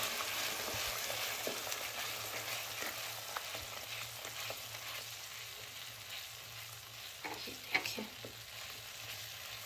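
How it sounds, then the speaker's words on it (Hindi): Onion paste being stirred into a sizzling seekh kabab karahi gravy, a steady close frying hiss with scattered scraping and spoon strokes, a slightly sharper clatter near the end, and no voices. "इस टाइम पे हमने इसके अंदर प्याज का पेस्ट शामिल करना है और फिर इसको भी मिक्स कर लेना है"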